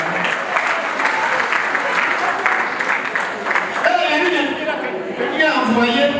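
Wedding guests clapping, sustained loud applause from a crowd, with people talking over it near the end.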